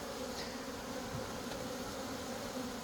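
Honeybees fanning at the hive entrance in an apiary, a steady, dense hum of many wings droning continuously and evenly throughout, close and unbroken with no voices.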